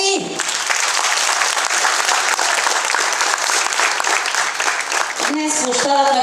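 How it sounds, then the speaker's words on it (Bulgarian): Crowd applause at an outdoor town square celebration in Zlatitsa after a children's vocal group performs: sustained, dense clapping that stays loud throughout, with brief musical tones rising near the end. "Аплодисменти!"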